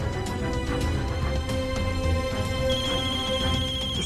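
A telephone rings with a repeating electronic ringtone melody, steady and fairly loud, with no one speaking over it.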